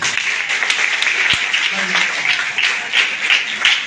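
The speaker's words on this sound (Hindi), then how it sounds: "वैष्णवी शुक्ला, के लिए ताली बजाइए।" A school audience claps for a student during a cyber security awareness class at SMPS School in Prayagraj, a steady dense patter of many hands lasting several seconds at even loudness.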